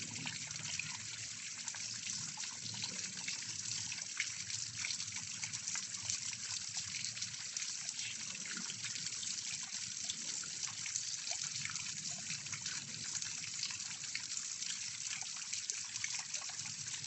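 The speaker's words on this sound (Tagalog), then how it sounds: "Waterfalls." Water trickles and splashes steadily down a man-made creek waterfall in a park, a soft, continuous rushing heard from close by with no voices.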